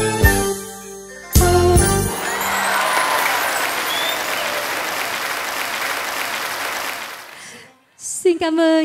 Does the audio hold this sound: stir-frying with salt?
no